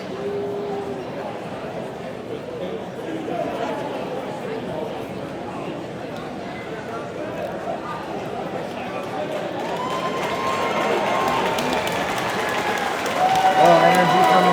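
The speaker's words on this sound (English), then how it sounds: "Crowd showing their appreciation for both the fighters." A packed crowd at a small fight promotion applauds both fighters with sustained clapping and cheering that builds louder toward the end, a commentator talking over it.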